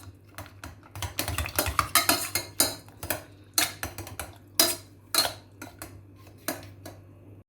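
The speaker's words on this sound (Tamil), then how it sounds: "இந்த உருளைக்கிழங்கு மசிக்கிறது இருக்குல்ல, இதை வச்சு இதெல்லாம் நல்லா ஒரு தடவை ஸ்மாஷ் பண்ணி விட்டுருங்க" Cooked potatoes are mashed with a metal masher in a pot, giving irregular clanking and scraping knocks, some quick and clustered, others spaced out, close and fairly crisp with no talking.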